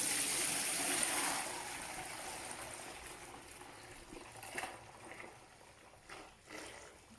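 Wort poured from a brewing pot into a fermenter during a brew-in-a-bag homebrew session, a steady close liquid rush for the first second or so, then tapering into softer trickles and splashes.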